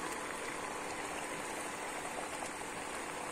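Hilsa fish frying in oil in a pan while being stirred: a steady, even sizzle and hiss runs throughout at moderate loudness, with no voices.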